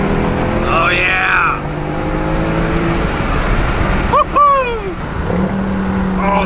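A stock Mercedes C63 AMG with the 6.2 V8 roars as it accelerates hard, then sharp throttle-blipped downshifts cut in with rising and falling revs. A voice whoops briefly over the engine.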